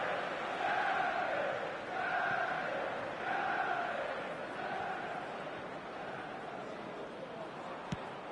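A football crowd at a Manchester United versus AS Roma match sends up a steady, distant roar, with repeated chant-like swells rising and falling over several seconds.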